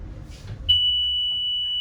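An emergency exit buzzer in a van sounds with a sharp onset partway through, then holds as a single steady, piercing tone after some quiet, low background rumble.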